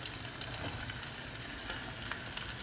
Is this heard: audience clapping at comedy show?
no